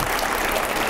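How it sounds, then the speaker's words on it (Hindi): Studio audience applause on a Hindi TV debate show, a brief dense burst of clapping, moderately loud and heard alone. "जोरदार तालियां हो जाए, जोरदार तालियां।"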